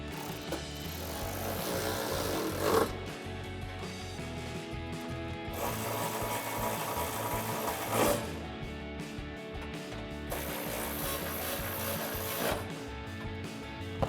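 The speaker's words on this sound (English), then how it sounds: "then we can grab our ratchet with our extension and 13mm socket and tighten all them down" A ratchet with an extension and 13mm socket tightens bolts during a 4Runner cold air intake install, giving a steady rasping, grinding texture with a few louder clicking surges, close and alone with no talk.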